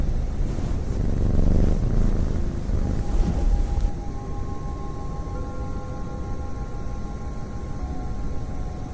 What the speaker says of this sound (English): warmed by the house's rhythmic purring, which vibrated through the floors like a perpetual lullaby